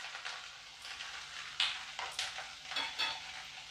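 Coriander powder and grated ginger frying in hot oil, stirred in a pan for a Punjabi-style paneer pasanda, giving a steady soft sizzle with a few sharper scraping strokes of the spoon, close and without talk.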